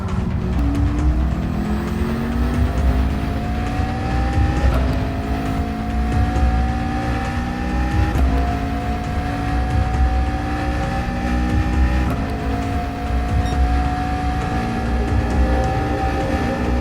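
Racing cars roar through a video game race, a McLaren and a Viper, the engines loud and constant as repeated gear changes make the revs climb and then drop several times.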